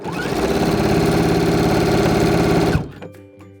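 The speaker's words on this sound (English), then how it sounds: "I'm gonna go over a few stitches and then back stitch and cut." A sewing machine stitches a shift dress seam with a loud, fast, even motor hum and needle clatter up close, then stops abruptly, leaving faint handling clicks.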